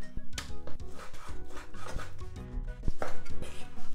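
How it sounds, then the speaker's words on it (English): A knife slices bacon into strips on a wooden board, with repeated soft chopping and rubbing strokes close by, under faint background tones and no talking. "I'm gonna cut up the bacon"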